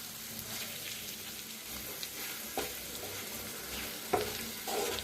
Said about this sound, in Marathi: मस्त असं भाजले जाते अंडा।